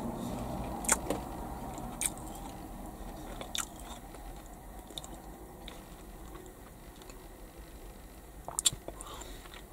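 Close crunchy bites and chewing of a Baynes Halloween shortbread biscuit with icing on top, sparse sharp crunches scattered over quiet mouth sounds.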